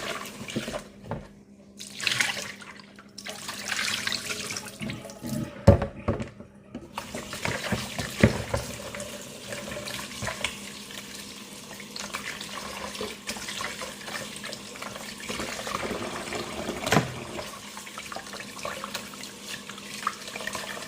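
Beef for beef pares is washed under running tap water in a sink, with a steady stream and splashing that shifts as the meat is handled, close by and with no talk.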